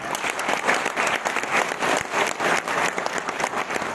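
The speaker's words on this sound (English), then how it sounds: "Please clap for that." A seated audience at a CSIR institute talk applauds continuously, many hands clapping in a full, steady roar with slight swells, lasting about four seconds.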